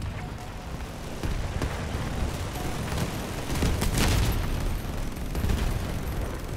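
Gunfire from a bot in a shooter video game rattles on steadily amid dense game noise, with sharper bursts around the middle and near the end.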